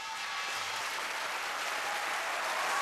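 Audience applauding at a Gangneung Nongak farmers' music performance, an even, faint, distant hiss of many hands clapping that grows slightly louder toward the end.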